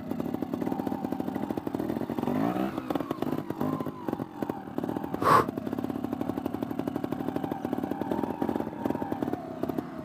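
Lightweight trial motorcycle being ridden, its engine chugging steadily at close range with uneven throttle pulses and a brief sharp burst midway; no talk.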